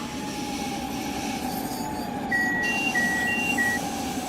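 A New Jersey Transit train rolls past in Train Sim World 5, a constant heavy rumble with brief high wheel squeals near the end, and no talking.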